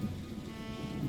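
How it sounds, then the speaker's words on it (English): Stormy rain ambience in the video game The Roottrees Are Dead, a steady dense wash of rainfall with low rumbling underneath, continuous and moderately quiet with no talk. "the stormy rain sounds in the background"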